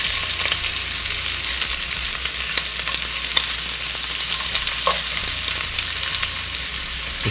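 Cuban-style pork meatballs fry in a hot pan as a spoon turns them, a loud continuous crackling sizzle with scattered pops and occasional light scrapes of the spoon, close up and steady throughout.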